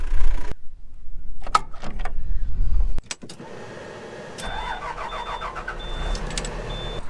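A farm loader's engine cranks and catches, preceded by knocks and clicks in the cab, then settles into a steady close idle.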